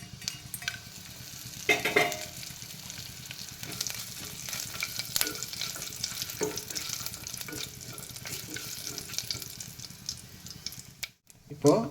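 Cinnamon bark drops into hot oil for vegetable biryani, sparking a busy sizzle with stirring and scraping scrapes, a few louder bursts, a short drop near the end and a faint voice in the background.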